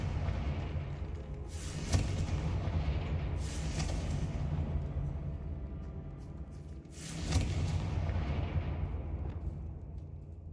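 Confringo blasting spells in the Hogwarts Legacy video game go off as several booming explosions with sharp cracks, each followed by a fading rumble, over a steady low background hum.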